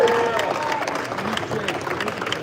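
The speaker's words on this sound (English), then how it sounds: "Round of applause." A crowd at the SEMA Show claps and cheers as a 1969 Mach 1 is unveiled, steady mid-distance applause with some voices mixed in.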